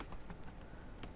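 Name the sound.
typing on a computer keyboard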